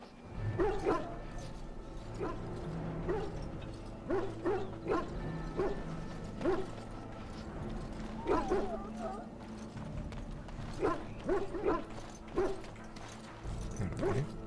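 Sick hounds in the Dragon Age: Origins video game, with repeated short barks and whimpers in clusters over a low ambient hum, some sounding near and others farther off.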